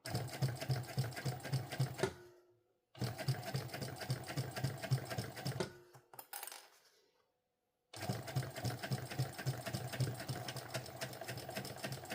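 A sewing machine stitching a fabric panel for a sling pouch, fast rapid needle clatter in runs of a few seconds, broken by pauses and brief handling noises before stitching resumes, close and clear.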